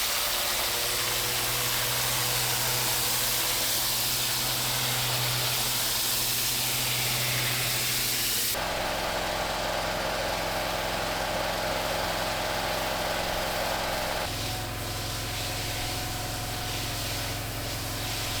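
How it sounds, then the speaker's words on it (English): A pressure washer fitted with a turbo nozzle runs steadily, a loud continuous hiss and motor drone cleaning an Indian sandstone patio, changing character twice as the spray shifts across the surface, with no talk. "If it comes out with the turbo nozzle, the pressure washer, as it may well do, that will be fairly low."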